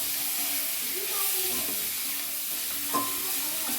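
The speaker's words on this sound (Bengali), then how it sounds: "এগুলো একটু হালকা কষিয়ে দেওয়া হবে" Tomatoes and potatoes, without onion or garlic, fry lightly in oil in a pan for a Bengali fish curry, giving a steady, soft sizzling hiss with occasional stirring scrapes and a faint voice in the background.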